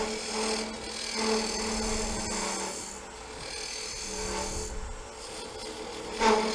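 A lathe tool scrapes and rasps continuously against spinning wood, with a steady motor drone underneath and slight variations in the cutting texture.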